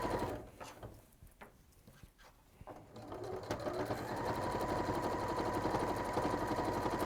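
A sewing machine stitches over earlier stitching through thick quilt layers, starting with a few hesitant bursts, then running in a steady, fast, close-up whir.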